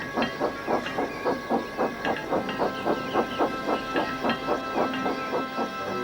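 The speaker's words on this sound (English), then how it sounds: "And Edward steamed away." A steam locomotive chuffs in a steady, even rhythm of hissing puffs, close and clear, with a faint rail clatter underneath.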